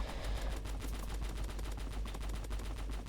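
Rapid, continuous automatic gunfire in a Roblox shooting game, dense bursts of shots hammering without pause for about three seconds at loud, steady level.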